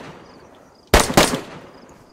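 A sudden close burst of gunfire in DayZ, two or three rapid cracks in under half a second, loud and sharp against a quiet outdoor background.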